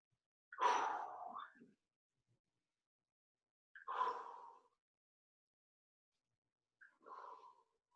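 Three long breaths, in and out, taken during a stretching exercise, each a soft, airy sigh or exhale spaced a few seconds apart, the first the strongest and the last fainter, with silence between.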